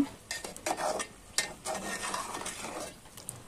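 Boondi is stirred in sugar syrup in a pan over a lit stove, a spoon scraping and clinking against the metal in short irregular strokes, fairly quiet and close, with no one talking.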